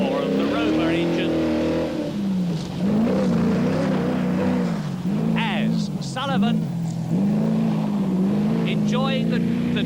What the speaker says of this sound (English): Just hear that distinctive, throaty roar of the Rover engine